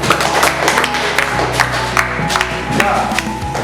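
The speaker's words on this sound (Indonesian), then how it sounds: "Ya, tepuk tangan dulu untuk hasil presentasi mereka." Classmates applaud after a group's classroom presentation: steady, dense clapping from a roomful of people, close and loud throughout, with a low hum underneath.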